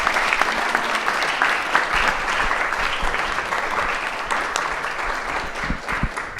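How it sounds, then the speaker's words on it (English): Sustained applause from an audience after a post-screening film discussion, thanking volunteers and panelists: dense, steady clapping at even loudness for the whole stretch, with no voices rising above it. "can we give our volunteers and our panelists, and especially Mandy, a huge warm applause for our putting together this night."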